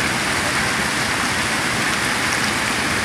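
Heavy rain pours down in a dense, continuous hiss, loud and close, with steady pattering on surfaces and no voices heard.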